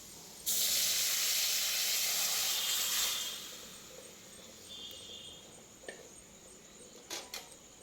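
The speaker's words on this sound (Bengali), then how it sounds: "তো এরপরে আমি ডালটাকে এর মধ্যে ঢেলে দেবো" Red lentil dal poured into hot oil with garlic tempering for a Bengali masoor dal dish, giving a loud burst of sizzling hiss that holds steady for a few seconds, then fades to a softer simmering crackle with small pops.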